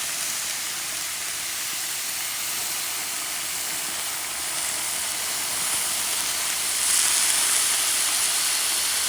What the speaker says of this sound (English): That butter's gonna cause it to flame up and smoke,